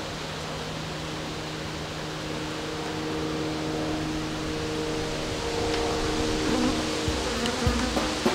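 Honeybees swarm at a hive holding a newly emerged virgin queen, producing a dense, continuous close buzz that fills the scene steadily without pause.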